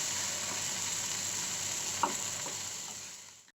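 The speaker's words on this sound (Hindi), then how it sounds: "इसमें 1 टेबलस्पून अदरक लहसुन पेस्ट ऐड कर देंगे और फ्राई कर देंगे अदरक लहसुन पेस्ट के लाल होने तक" Onion with ginger garlic paste sizzles in a pan over a medium flame, a faint steady hiss with one soft stirring clink, no voices.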